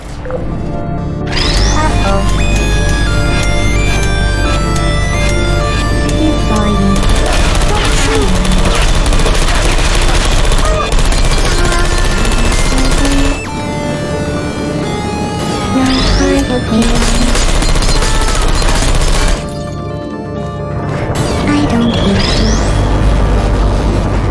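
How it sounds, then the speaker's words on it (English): Turrets fire bullets in Portal 2 as rapid, sustained loud bursts that run almost without break, dropping out only briefly twice before resuming. "This next test involves turrets."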